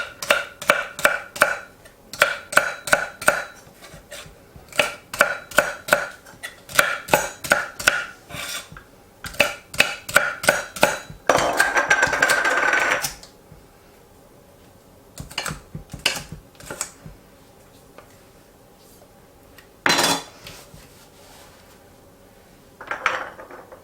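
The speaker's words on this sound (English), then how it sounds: "slice my celery down the middle along that middle spine to split it into 2" A knife chops celery into tiny pieces on a cutting board for red beans and rice: a long run of quick, steady, close knocks, then a short busier burst and a few scattered taps.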